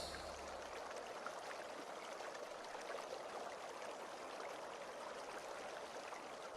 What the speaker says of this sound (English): she saw an angel digging the earth till water flowed from that